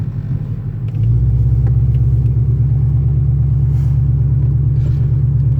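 A Duramax diesel pickup on bald tires pulls out of a spot where it seemed stuck, its engine rising into a loud, steady throbbing rumble close by that holds to the end.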